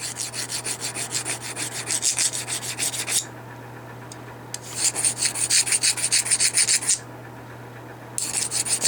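A hand file rasps over a Marlin 60 rifle part in rapid, rhythmic back-and-forth strokes up close, in three runs separated by short pauses.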